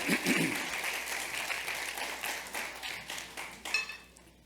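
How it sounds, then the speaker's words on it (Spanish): A church congregation claps during a sermon, a fairly close round of applause that swells early and gradually tapers off, with a few scattered sharper claps near the end. "Eso, aplauda al Señor."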